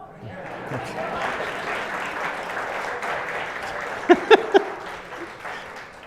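Audience applause at a corporate presentation on AI-powered people analytics, a moderate, steady patter of clapping from a room of listeners, with a few sharp louder claps near the end.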